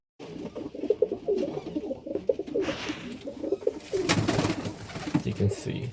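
Serbian Highflyer pigeon hens cooing in a loft, a dense overlapping chorus of low throaty coos running continuously, close by, with occasional rustling.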